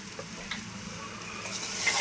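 Salted vegetables stirred and sizzling in a hot pan while making Chinese rice, a close, steady frying hiss with soft scraping strokes of the spoon.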